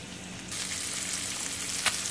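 Red snapper fillets laid into a hot skillet set off a sudden, loud, steady sizzle of frying that fills the rest of the moment, close up and with no talking.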